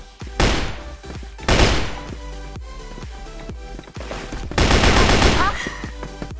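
Rapid bursts of FN-FAL rifle fire in the shooter game CrossFire crack out in quick, punchy repeated shots, with louder clusters standing out over a steady run of close gunfire.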